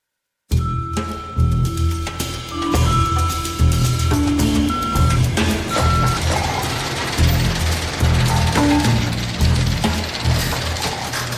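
A garbage truck works a street at dawn: steady engine rumble, reversing beeps and clattering, banging bangs of bins and debris, loud and continuous, with no talking.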